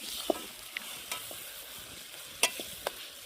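Onion and tomato frying in a pan for a curry cooked outdoors, a faint low sizzle under a few sparse, sharp clicks and scrapes of stirring.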